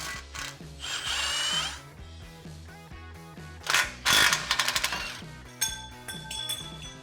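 Power tool whirring in several bursts as it backs out the bolts holding the sway bar on a second-generation Toyota Tacoma during a front bumper install, with ratcheting clicks and metallic rattles between the loud close runs.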